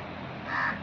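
A crow caws once in the morning while being fed, a single harsh call over steady outdoor background noise.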